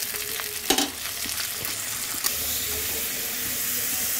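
Ground prawn paste hits hot oil already holding chopped onion, giving a loud, continuous sizzle and fry with a few sharp spits and stirring knocks, with no voices over it.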